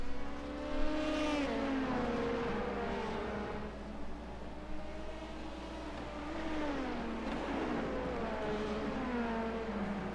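Race car engines in an IMSA racing video game at the race start, a continuous droning whine whose pitch climbs and falls through gear changes, sustained and fairly loud with no voices.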